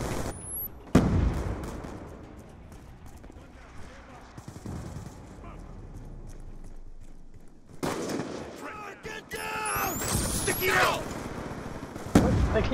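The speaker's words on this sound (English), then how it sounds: "They keep shooting me from the sides," Bursts of automatic gunfire and loud shots from multiplayer combat in the video game Call of Duty Black Ops 2, arriving in sharp clusters with quieter gaps between them, with players talking over the action.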